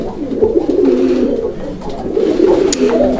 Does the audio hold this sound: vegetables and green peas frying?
no